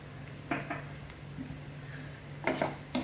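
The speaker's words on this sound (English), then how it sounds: "Let us saute the masalas." Masala spices, including coriander powder and garam masala, sauté in a pan for a matar pattice filling: a faint steady sizzle with a few soft scraping stirs of a spoon against the pan.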